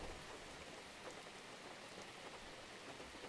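Rain falling in a forest, a dense, even hiss of drops on leaves and ground that stays steady and moderately close, with no voices.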